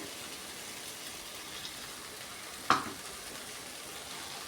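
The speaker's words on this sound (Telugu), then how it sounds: "ఉల్లిపాయలు అలాగే చిక్కుడుకాయ వేగిపోయిన తర్వాత మనం పొడి తయారు చేసి పెట్టుకున్నాం కదా ఆ పొడిని ఇప్పుడు ఇందులో వేసేసుకోవాలి" Broad beans and onions sizzle softly in a frying pan, a faint steady crackle with one brief clink or tap as spice powder goes in.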